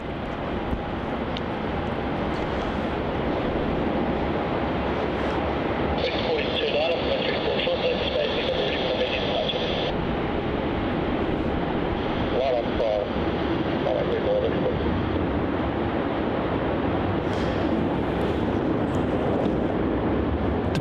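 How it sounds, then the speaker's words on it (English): A Qantas passenger plane departs on runway 34 at Melbourne Airport, its engines giving a steady, loud broadband roar that holds without a break from start to finish, with faint background voices mixed in. "Departing there on runway 34"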